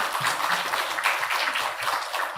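A church congregation at a third-anniversary thanksgiving service claps steadily to welcome a guest pastor to the pulpit, a dense, sustained round of applause with no pauses.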